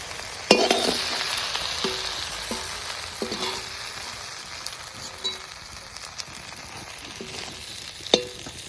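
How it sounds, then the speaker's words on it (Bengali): Fresh river prawns fry in hot oil, a steady moderate sizzle broken by sharp clinks and scrapes of a utensil against the pan, with no talking. "চিংড়ি মাছ সব ভাজা হয়ে গেছে"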